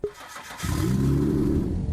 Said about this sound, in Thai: นั่นแค่เสียงสตาร์ทเครื่องนะครับผม